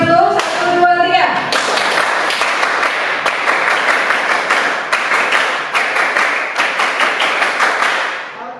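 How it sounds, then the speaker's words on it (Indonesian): A high school history classroom performs a rhythmic spirit clap, many hands clapping together in quick patterned bursts and steady beats, close and lively, with a voice speaking briefly at the start. "Kita akan tepuk semangat dulu."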